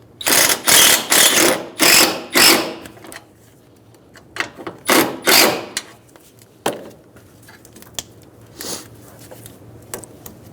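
Ratchet tightening the battery tie-down on a 2010-2014 Subaru Outback, repeated bursts of rapid clicking strokes, loud and close, with pauses between strokes.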